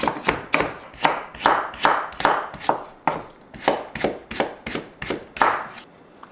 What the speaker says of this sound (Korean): 당근도 얇게 채 썰어줍니다